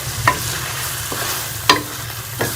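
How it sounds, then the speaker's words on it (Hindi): Marinated chicken fries with masala in a pan for a Punjabi chicken dish. A steady close sizzle runs throughout, broken by three sharp scrapes as a spoon stirs the pan, with no one talking. "चिकन को जो है वो मसाले के साथ अच्छी तरह मिक्स करके भून लेंगे"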